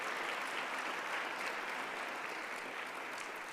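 Warm audience applause at a technology launch for people with disabilities, a dense even wash of many hands clapping at steady moderate loudness throughout.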